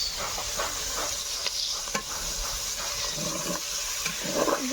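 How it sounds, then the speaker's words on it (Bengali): Meat half-fried for a roast sizzling and hissing in a hot pan, with occasional scrapes of stirring; steady and close, no talking. "গোস্ত অর্ধেক ভাজা শেষ"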